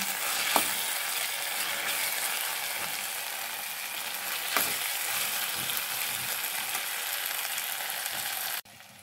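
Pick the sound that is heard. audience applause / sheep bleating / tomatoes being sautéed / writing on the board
tomatoes being sautéed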